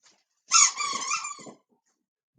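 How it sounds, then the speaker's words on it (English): A dog's squeaky toy gives one drawn-out, wavering squeak up close, followed by silence and a tiny click at the end. "He's got a squeaky toy."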